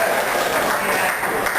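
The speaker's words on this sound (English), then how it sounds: "Round of applause" Audience applause at a stand-up comedy show, a steady wash of many hands clapping at moderate level for a couple of seconds with no break.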